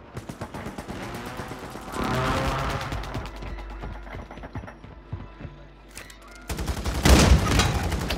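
Gunfire crackles through a Call of Duty match: rapid bursts of shots, dense volleys and a heavy burst near the end, loud and close over a rumbling battlefield, with no talk.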